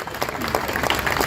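A crowd at a Shiv Sena campaign office launch claps, a dense, loud burst of applause from many hands, close and continuous for about a second.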